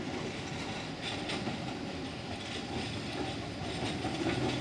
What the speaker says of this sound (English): Here comes the number 10 tram.